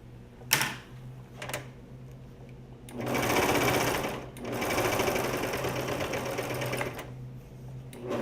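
A Brother cover stitch machine hems a neckband in two sustained bursts of rapid, close mechanical stitching, preceded by a few short clicks and separated by a brief pause.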